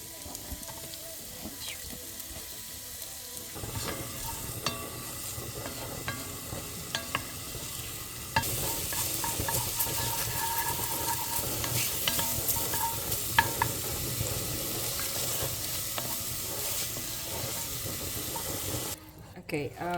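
Onions fry in a little oil in a pan with a steady close sizzle and occasional stirring scrapes, growing louder partway through, then cutting off abruptly near the end.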